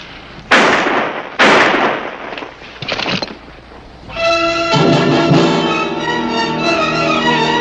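Gunshots ring out in a Western TV show: two sharp, loud reports close together, then a quieter shot followed by a swelling music score.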